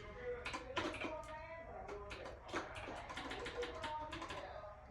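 Fingers tapping out bursts of quick keystrokes on a computer keyboard, close and fairly quiet, in irregular clusters with brief pauses.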